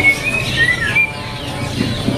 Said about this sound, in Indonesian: Nah, ini burungnya lagi bunyi